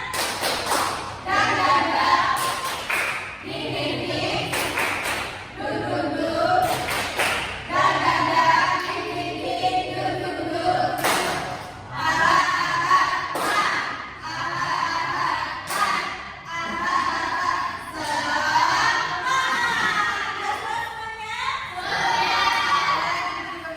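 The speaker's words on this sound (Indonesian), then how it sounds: "Yo, nanti suaranya yang keras ya. Yo, tepuk semangat." A class of children claps the 'tepuk semangat' rhythmic chant, loud patterned hand claps in short groups with pauses, mixed with children's voices chanting along throughout.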